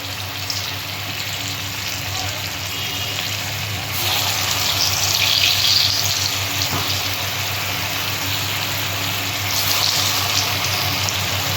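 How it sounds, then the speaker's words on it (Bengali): Chhana koftas frying in hot oil with turmeric, a continuous close sizzle that swells louder midway, heard alone without voices. "আমি এবার তেল দিচ্ছি কোপ্তাগুলো ভাজার জন্য।"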